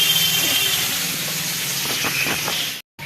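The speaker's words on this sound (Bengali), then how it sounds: "এই যে এদিকে মাছ ভাজা হচ্ছে" Fish frying in a pan in a home kitchen, giving a loud, steady, close sizzle and hiss that runs without a break and stops abruptly just before the end.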